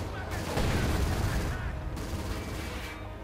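Gunfire in the strategy game Company of Heroes 2, a dense, crackling wash of rifle and machine-gun shots with some heavier thuds, heard at middling distance under game ambience.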